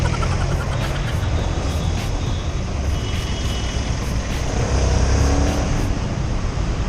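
Dense, steady engine and road noise from motorbike riding in heavy Metro Manila traffic fills the whole stretch, loud and continuous with no pauses.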